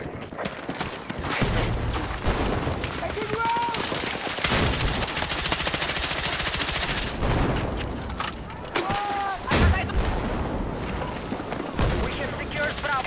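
Enemy gunfire during an assault on Bravo in the shooter Battlefield 6, sustained automatic bursts and single shots layered with combat noise, loud and continuous, with occasional voice announcements over the top.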